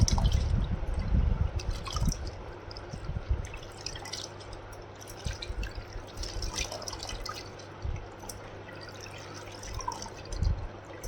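Water drains and drips from freshly washed mixed dal lentils tipped into a kitchen strainer, a scattered patter of small drops and trickles with a few louder splashes at the start, fairly close and alone.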